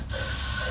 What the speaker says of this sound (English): spray some quick start